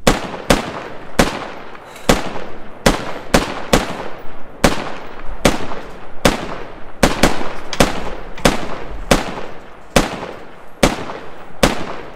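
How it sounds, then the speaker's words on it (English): Video game gunfire at a high rate: a long run of loud, sharp shots, roughly twenty of them, cracking close by at a quick, uneven pace with brief echoing tails and no talking. "A high volume of fire."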